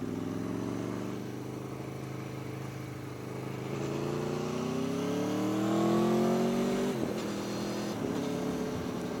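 Aprilia Tuono V4 1100 RR motorcycle pulling away in second gear, its engine note rising steadily in pitch as it accelerates close to the microphone, with wind rush underneath and no talk.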